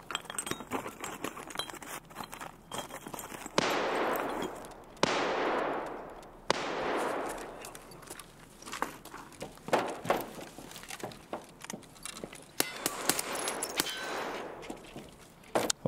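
Scattered sharp cracking bursts of gunfire during a game raid, several loud volleys with decaying tails spread through the stretch, over a steady background hum.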